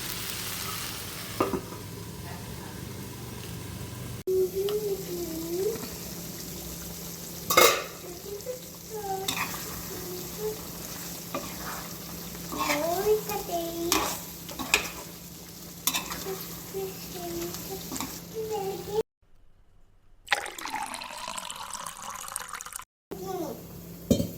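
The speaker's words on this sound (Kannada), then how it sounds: "ಇದು ಫ್ರೈ ಆಗಲಿ ಚೆನ್ನಾಗಿ" Chicken fries in a pan for chicken gravy, a steady low sizzle with occasional stirring scrapes and clinks, heard close alongside intermittent talking.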